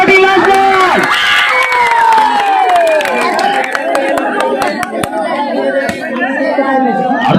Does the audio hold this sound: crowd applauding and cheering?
yes